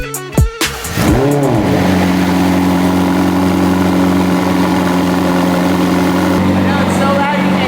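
A car engine starts with a couple of cranks and revs, then settles into a loud, steady, rumbling idle that fills the whole stretch, with a voice speaking over it.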